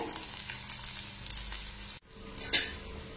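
Onions sauté in a pan for chutney, giving a steady close sizzle with a light stirring scrape and a brief lull partway through, with no voices.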